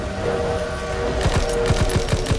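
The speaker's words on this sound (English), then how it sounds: "Charlie, train's leaving!" A train in the Call of Duty WWII game pulls away with a steady mechanical rumble and a repeating clatter of wheels picking up pace, loud and near, with no talking over it.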